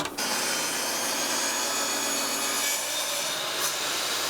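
A saw blade ripping through wood, a steady, loud, continuous cutting roar that holds evenly for several seconds with no speech.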